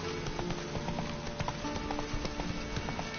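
Hooves clip-clop at a quick even pace in The Witcher 3, dense and continuous under a steady layer of background game ambience.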